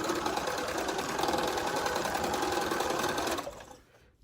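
A sewing machine stitches quilt pieces together in one loud, steady mechanical run up close, then stops and fades into quiet.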